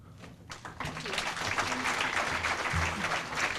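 Steady applause from a service club meeting audience, a dense patter of clapping that swells after a brief start and holds throughout.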